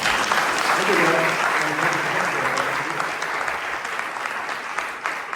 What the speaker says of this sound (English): Another round of applause for Sebastian there.